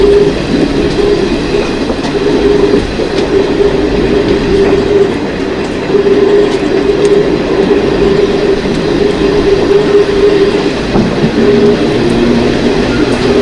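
Paharia Express passenger train running on the line in rain, a steady loud rumble of rolling wheels with a low hum and occasional rail clatter, continuous throughout with no talk.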